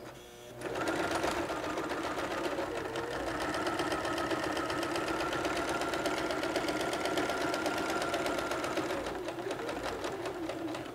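A sewing machine with faulty tension stitching, starting after a brief pause into a steady, rapid mechanical whir and clatter that holds evenly for about ten seconds before easing off, close up with no talk.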